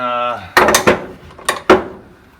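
Wrench working a 13 mm bolt on the steering column of a classic Volkswagen bus, giving several sharp, close metallic clinks and knocks after a brief tonal hum, then fading.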